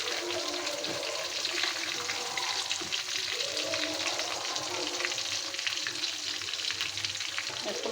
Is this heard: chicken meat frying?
yes